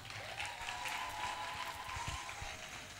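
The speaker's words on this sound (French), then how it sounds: "Et je vous demande de les applaudir encore" An audience at the Mini Miss Congo 2022 pageant applauds the children, with faint, distant clapping under a steady tonal hum for a few seconds.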